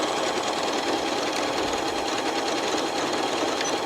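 A Janome Horizon 9400/9450 sewing machine stitching out a programmed custom stitch sequence, a fast steady mechanical whir with rapid needle tapping, close and continuous.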